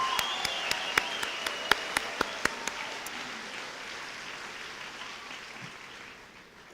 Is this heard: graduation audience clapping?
yes